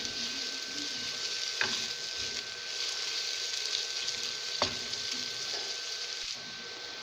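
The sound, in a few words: onions frying in hot oil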